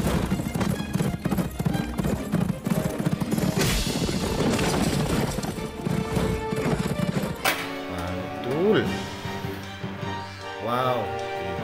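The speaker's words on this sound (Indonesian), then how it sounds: "Wow, kudanya laju sekali larinya teman-teman." Toy horse figure from a character box of animal toys, galloping with a fast clip-clop rhythm under music, with whinnying calls near the end and a voice speaking over it.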